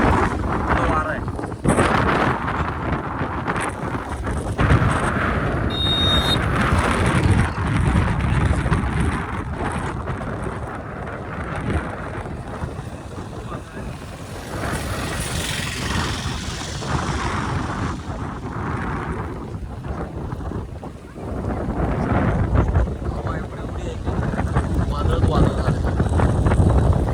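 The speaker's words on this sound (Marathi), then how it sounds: "वारा आहे." A strong windstorm with a few raindrops roars steadily and loudly against the microphone, buffeting in gusts for almost half a minute while a voice speaks at times beneath the noise.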